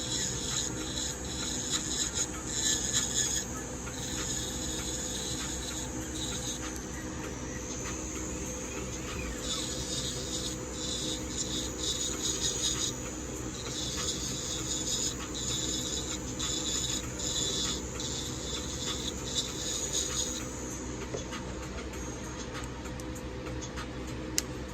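An electric nail drill fitted with a fine sanding band works over natural nails, giving a constant high-pitched whine with light rasping and scratching for about twenty-five seconds.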